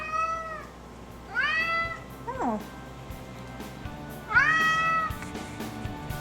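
A cat meows several times in a kitchen while meringue cools in the oven: rising and falling calls, moderately close, spaced across a few seconds, with one brief spoken exclamation between them.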